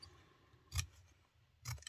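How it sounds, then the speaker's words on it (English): Two crisp scissor snips cutting through fabric during a sewing craft project, spaced about a second apart, close and fairly quiet with no talking. "what I'm going to do is just snip the fabric"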